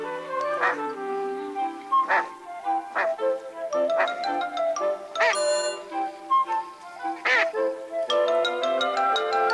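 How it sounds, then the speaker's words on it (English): Several ducks quacking in a wild coyote-country setting, repeated bursts of loud nasal quacks at an irregular rhythm, close by and clear, with no talk over them. "The splashing and quackings have attracted the attention"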